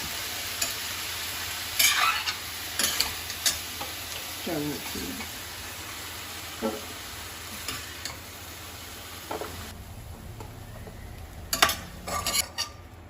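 Broccoli is stirred and lightly fried in oil in a pan, a soft sizzle under intermittent spatula clinks and scrapes against the metal, with occasional faint background speech.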